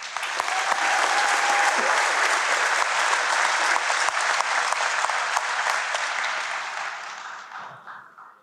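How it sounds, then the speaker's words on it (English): A big crowd at a college commencement ceremony claps loudly and steadily for several seconds, then the applause tapers off toward the end. "Please give them all a round of applause."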